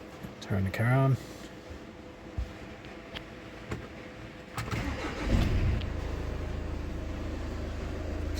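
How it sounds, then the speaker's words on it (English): A VW Passat B7 starting up, a short cranking burst followed by the engine settling into a steady idle with some ventilation hum, with clicks and a voice nearby. "Turn the car on."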